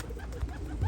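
A flock of older racing pigeons gives low, soft coos, with a couple of short throaty calls rising near the end over a faint steady background.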